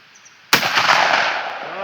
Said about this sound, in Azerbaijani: Impala Plus 70 metr tək güllə